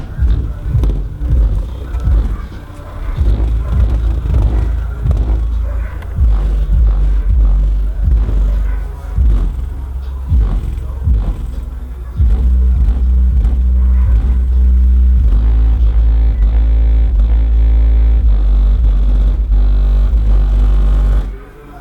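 Loud bass-heavy music pumping from a 10-inch Ultimax subwoofer inside a car, deep booming low end with thumping beats that shift partway through, playing continuously without talk.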